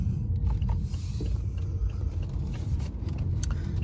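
A BMW i8 hybrid supercar driving and turning around, heard as a steady low road rumble and mechanical hum from inside the cabin, without pause.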